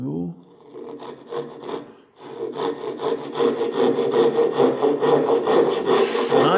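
A hand saw with a crosscut blade cuts across the grain of wood in steady rhythmic strokes, close and fairly loud, after a short pause near the start.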